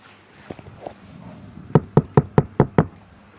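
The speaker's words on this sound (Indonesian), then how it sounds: "saat pintu kamar diketuk" A bedroom door is knocked on with six quick, even raps, close and sharp, after a couple of softer thuds and faint rustling in a quiet room.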